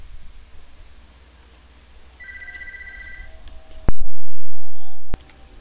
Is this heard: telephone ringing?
yes